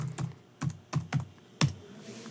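Computer keyboard typing for an online search, five or six separate sharp key clicks in a short irregular burst, close and fairly quiet, with no talk.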